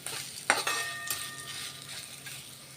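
Freshly grated coconut dropped into hot oil tempering in a pan, a soft sizzle and frying hiss with a clink of utensil against the pan and stirring scrapes, close and fairly quiet, without talk.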